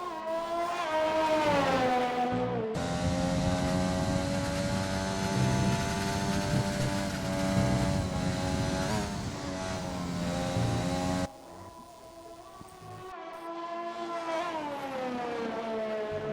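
Red Bull Formula 1 race car in a racing video game, engine screaming continuously through a lap with rising and falling revs as it shifts and brakes, loud and close with no talk.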